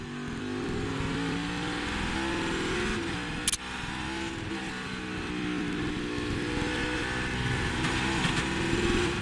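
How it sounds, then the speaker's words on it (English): A race car's engine drones at a distance during practice and qualifying for the Kwik Trip 250, broken midway by one sharp, brief scraping thump as the car bottoms out on the curb. "Car bottoming out on the curb there"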